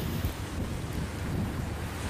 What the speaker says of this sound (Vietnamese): hôm nay gió cũng tương đối là lớn nha